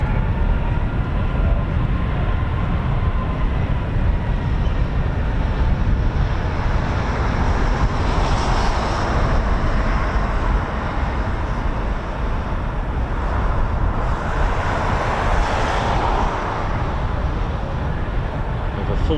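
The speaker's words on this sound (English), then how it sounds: "Sounds like we've got another departure. Sounds like we've got a KC-135." A USAF KC-135 Stratotanker jet departs, giving a loud and steady broadband engine roar that fills the whole stretch and swells slightly midway, with no talk over it.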